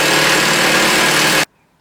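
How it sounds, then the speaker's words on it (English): Impact wrench fitted with a silver socket working lug nuts on an EcoTec-swapped Miata during an ARP extended stud install, a loud steady buzzing whir running about a second and a half before cutting off abruptly into silence. "I'm using an impact with a silver socket"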